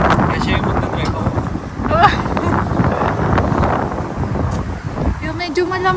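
Cold wind gusts outdoors in Sudbury, Canada, buffeting the microphone with a rough, continuous low rumble while people talk briefly over it.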